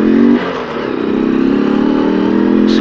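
Hero Xtreme motorcycle engine running steadily up close during a ride, a loud continuous mid-pitched drone with a brief dip early on before holding a constant tone, no talking.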